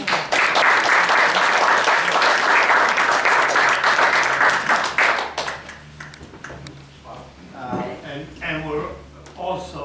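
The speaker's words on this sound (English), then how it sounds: "deserve a round of applause for making this happen" Audience at a mural dedication for the Round Stone Schoolhouse breaks into loud, dense applause for about five seconds, then it fades out as people begin talking nearby.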